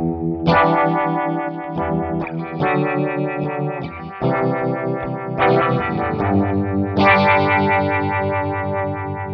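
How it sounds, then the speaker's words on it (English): Distorted electric guitar with a univibe modulation effect via a NUX Cerberus pedalboard, sustained chords and notes struck in several bursts, loud and up front with a swirling, pulsing tone and no speech. "Sounds like I'm playing univibe to an amp."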